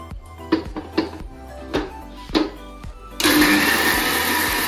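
Soaked rice being loaded into a mixer grinder jar with a few clunks and knocks, then the motor starts abruptly into a loud, steady high-pitched whirring grind as the rice and water turn to paste.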